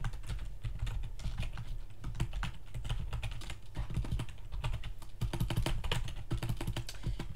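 Rapid typing on a computer keyboard, a dense run of close, crisp key clicks at an uneven fast pace throughout, with no talking.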